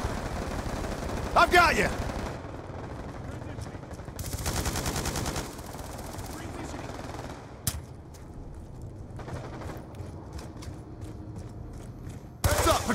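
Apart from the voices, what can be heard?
gunfire in video game Call of Duty: Black Ops 2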